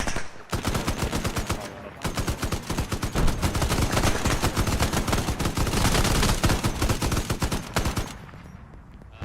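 Dense, rapid gunfire in an Arma night firefight, sustained automatic bursts crackling loudly and continuously for several seconds before tapering off, with a faint voice underneath.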